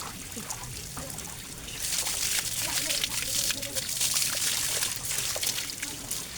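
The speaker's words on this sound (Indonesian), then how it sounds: "Pancurannya juga deras." Strong water pouring from a shower spout at the Aek Sipitu Dai bathing spring, a dense hiss that swells louder partway through, with voices talking underneath.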